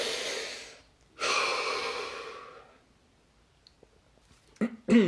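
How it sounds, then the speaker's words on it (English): A person draws two long, deep breaths through the air, each a soft broadband rush lasting about a second or more, followed by quiet and a couple of short, sharper sniffs or gasps at the end. "Take another breath."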